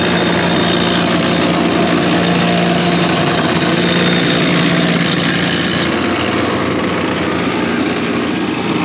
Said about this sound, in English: So that sweeps across the knives as they're spinning in reverse, and it's sharpening them.